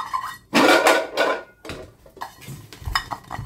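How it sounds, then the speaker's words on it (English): Close, crisp metallic taps on pans in a lofi ASMR style: a few bright, ringing strikes at first, then a looser run of lighter, quieter taps and clinks. "Lofi pan tapping."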